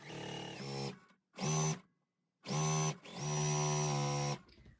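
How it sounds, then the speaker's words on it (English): Sewing machine stitching scrappy quilt block pieces together, close and loud in bursts of steady whirring hum, stopping and starting four times with short silent gaps between runs. "Now we're just sewing these together."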